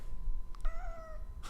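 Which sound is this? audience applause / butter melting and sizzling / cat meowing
cat meowing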